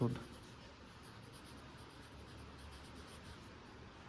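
A pen writes shorthand on paper in a quiet room, producing a faint, continuous scratching close by, with a soft knock at the start.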